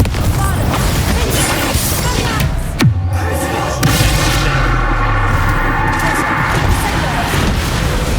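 In the Hogwarts Legacy video game, a Confringo fire spell explodes as a sudden loud boom with a sharp burst and a second crash a second later, set in a dense, loud bed of game music and effects.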